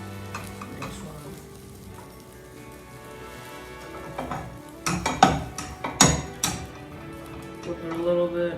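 Omelette egg being stirred in a hot frying pan, a steady sizzle with scraping stirs that grow louder and busier in the second half, up close with no talk.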